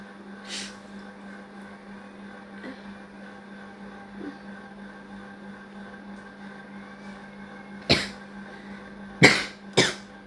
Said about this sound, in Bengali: এই কাশিটা দিছি না এই কাশিটা দেওয়াতে